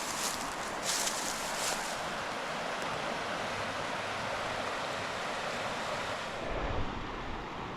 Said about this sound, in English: But this is Muddy Creek, starting to hit the rapids here.